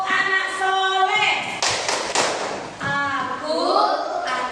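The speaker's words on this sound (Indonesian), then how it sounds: "Tepuk anak soleh." A group of schoolchildren claps hands in unison during a classroom chant. The sharp, rhythmic claps come in short bursts, mixed with their chanting voices and a teacher's voice.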